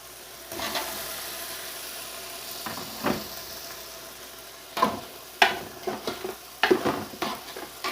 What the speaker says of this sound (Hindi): अब इस गोश्त को मसाले के साथ भूनेंगे अच्छे से।